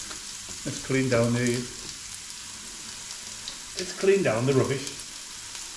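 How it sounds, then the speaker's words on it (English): Chopped small onion sizzles and fries in a pan with a steady hiss. A voice speaks briefly near the start and again toward the end. "Let's stick this in the pan. So we're going to fry it up a little bit."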